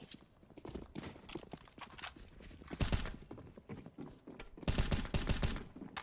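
Bursts of AK rifle fire in the game CS:GO, sharp rapid cracks in two dense volleys around the middle and end, with scattered shots and footsteps between, fairly distant in the mix.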